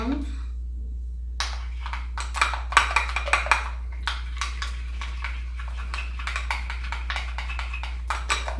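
A spoon clinks and scrapes against a bowl while a coffee truffle mixture of cream, chocolate and melting butter is stirred, a string of sharp clicking taps in an irregular rhythm, fairly faint and close.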